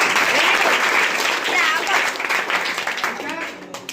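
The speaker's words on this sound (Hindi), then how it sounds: "ताली बजाइए" Students in a Bihar classroom clap together for a classmate, a dense burst of hand claps that gradually thins and fades, with some voices mixed in.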